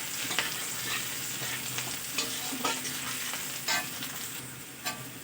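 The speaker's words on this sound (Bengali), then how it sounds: "পেঁয়াজটা লঙ্কাটা একটু ভাজা ভাজা করে নেব।" Chopped onion and green chilli fry in hot oil with a steady close sizzle, along with occasional scraping clicks from stirring.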